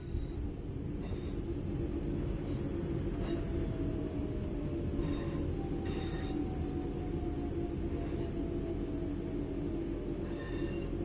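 In Train Sim World 5, a heavy train rumbles steadily at close range while braking, with faint squeals and metallic clanks recurring as it slows to a stop, no voices present.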